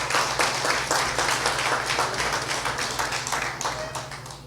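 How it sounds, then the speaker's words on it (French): Audience applause at the launch ceremony of a law fair: sustained, even clapping from a sizable crowd with pulsing intensity, a steady low hum underneath throughout. "Je vous demande de les applaudir."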